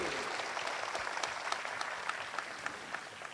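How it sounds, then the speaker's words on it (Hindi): Fairly faint, continuous applause from an audience at an honoring ceremony at Sadhna Bhawan, with many hands clapping together and scattered sharper claps standing out over the crowd. "तो दीदी जी का सम्मान करो तालियों की जोर से।"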